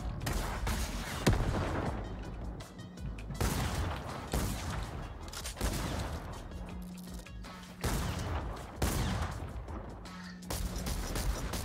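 Rapid gunfire and bursts from a shooter video game, including a drum gun and shotguns, crackle continuously across the clip in loud, dense volleys with brief lulls between them.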